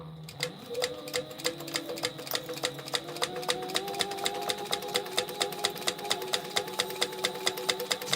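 Sewing machine stitching steadily with a shortened stitch length, giving a fast regular mechanical ticking over a low motor hum. The sound is continuous and close, with no talking.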